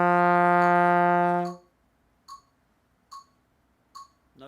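Trombone plays a sustained low note for about a second and a half, then three short, evenly spaced notes follow like plain quarter notes in exercise 21 from Gerald Bordner's Book 1, heard clearly with no talking.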